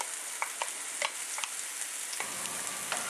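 Onion, pepper and garlic mixture sizzling in hot oil in a pan, a steady hiss with scattered sharp pops and stirring clicks, close and moderately loud with no talking.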